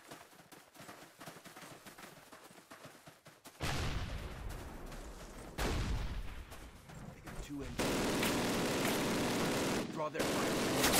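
Bursts of .30 cal machine gun fire and battle gunfire in Call of Duty (2003), Brecourt Manor mission, faint crackle at first then loud sustained volleys in several sections, with shouted squad commands.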